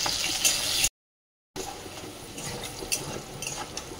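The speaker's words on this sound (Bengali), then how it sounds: "এই যে ভেন্ডিগুলো বেশ এরকম করে ভেজে নিচ্ছি" Okra frying in plenty of oil seasoned with turmeric and salt, a steady close hiss with light stirring scrapes, broken by a short silent gap before the sizzle resumes.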